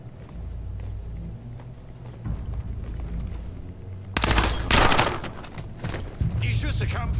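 Gunfire in the stealth video game Splinter Cell Blacklist: a loud burst of shots erupts midway over low rumbling game ambience, with further sharp cracks afterward, and someone talks over parts of it.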